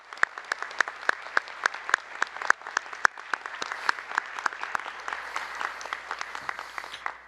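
Applause for honored scholars at a senior scholars induction ceremony, with crisp individual claps standing out in an irregular rhythm at first before blending into a steady, continuous clapping crowd.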